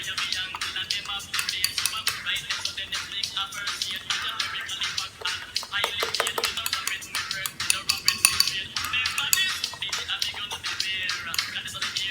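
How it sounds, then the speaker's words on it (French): A spoon clinks and scrapes steadily against a bowl while stirring an argan oil hair mixture, quick irregular metallic taps close up and continuous for the whole stretch, with no talking. "J'aime bien l'huile d'argan. C'est un petit peu cher, mais un ami qui m'a ramené du Maroc. Et je touille."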